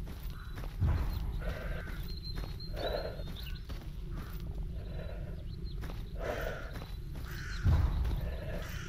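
Footsteps crunch in the STALKER Anomaly video game. Soft, regular steps repeat steadily over a low rumbling ambience, with two heavier thuds near the start and end.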